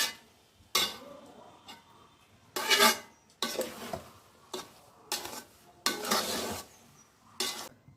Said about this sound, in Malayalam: നമ്മൾ ഈ മസാല ഈ ഇറച്ചി ചിക്കൻ മസാല ഇതിൽ ചേർക്കാം കേട്ടോ ചേർത്ത് നന്നായിട്ട് മിക്സ് ചെയ്ത് കൊടുക്കാം